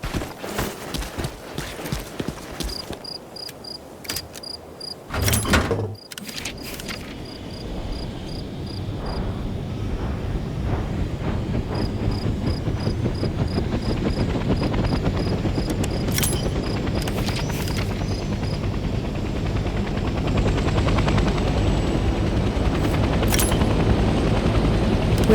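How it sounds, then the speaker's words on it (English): A military helicopter engine starts up in the game Hell Let Loose: Vietnam, with cockpit clicks and switch beeps giving way to a steady, growing turbine whine and rotor chop that builds loudly over about twenty-five seconds. "Let's start by getting in the pilot seat and turning the engine on."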